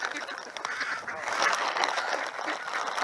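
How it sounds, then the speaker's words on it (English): Ducks and geese on a city lake in Seattle in winter honk and quack in a busy, continuous chorus, near and fairly loud, with faint talk mixed in. "Funny ducks."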